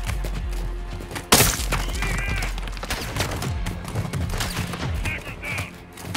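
A sniper rifle shot in Modern Warfare 2 cracks out loud and sudden at close range, a single sharp blast cutting through game ambience and music, followed by voices talking under the lingering combat noise.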